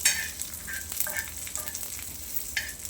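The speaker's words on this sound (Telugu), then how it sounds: "కరివేపాకు, తర్వాత ఎండుమిరపకాయ ఒక 4 వేసుకున్నా." Curry leaves and four dried red chillies frying in hot oil for a tempering, a steady close sizzle with brief crackling bursts and stirring, no voices.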